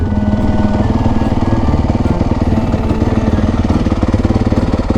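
Supermoto motorcycle pulling away hard in first gear, a loud, close, rough engine drone with a steady rapid pulsing that holds for the whole stretch, no talk over it.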